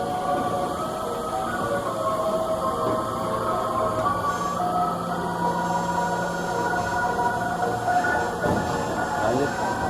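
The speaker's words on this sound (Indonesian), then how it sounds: "ini kondisi stasiun Rangkas Bitung yang baru pada turun dari arah Jakarta" Busy Rangkasbitung train station as a train arrives from Jakarta, a steady rumble and metallic rail noise with crowd murmur and voices throughout, moderately loud and continuous.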